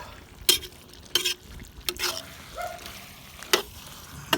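Frying ingredients for traditional Cossack kulish are stirred in a pan, with scraping strokes and short clatters over a faint, steady sizzle, heard up close.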